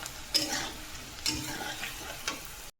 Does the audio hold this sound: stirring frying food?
yes